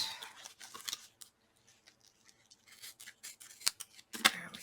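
Scissors cutting an angled line through cardstock scraps for a pleated card: a run of crisp, close snips and rustles that pause briefly, then return in sharper bursts.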